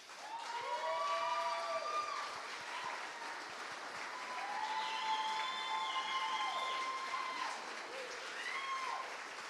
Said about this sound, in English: so we can give all the living donors a big round of applause.